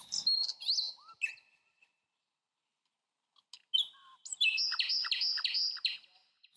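Small birds chirp and tweet in quick, high bursts, pause briefly, then trill again in a rapid repeating run, clear and close with no other sound.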